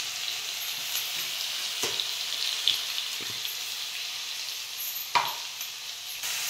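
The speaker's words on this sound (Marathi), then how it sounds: "कडक फोडणी बसायला पाहिजे आहे का नाही." Ground green chilli and garlic masala sizzles in hot oil for a tempering, a steady bright hiss with a few sharp spatters and clinks over a few seconds.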